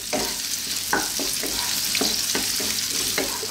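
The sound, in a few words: chunky white onions frying in pan on high heat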